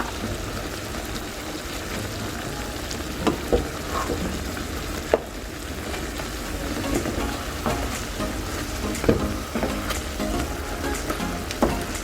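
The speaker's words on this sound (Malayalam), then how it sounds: "എല്ലാ ചിക്കനും ഒന്ന് തിരിച്ചിട്ട് കൊടുക്കുക." Afghani chicken pieces fry in a pan and are turned over, giving a loud, steady sizzle with occasional clinks and scrapes from the turning, and no voices.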